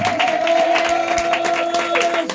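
A church congregation applauds and acclaims God, steady clapping and cheering from a crowd over a sustained musical tone, with voices mixed into the din.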